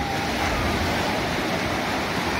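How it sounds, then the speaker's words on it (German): Steady broadband roar of ocean waves washing onto a beach at a seaside campsite, loud and continuous with no clear breaks or voices. "Heute hat es tolle Wellen."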